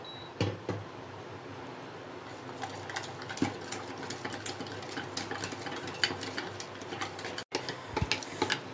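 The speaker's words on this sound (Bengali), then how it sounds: "এবার এটাকে ভালো করে ফেটে নেব" A spoon beats coffee with hot milk in a cup, giving quiet, rapid, irregular ticking clinks that continue throughout with a few sharper knocks and no talking.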